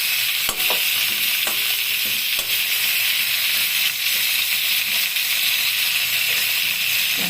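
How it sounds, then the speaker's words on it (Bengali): Pointed gourd stirred with salt and turmeric in a pan sizzles with a bright, hissing fry, punctuated by occasional spatula scrapes and taps against the pan, with no talking. "এবারে ভালো করে নাড়াচাড়া করব। নুন হলুদটাকে মিশিয়ে দিব ভালো করে।"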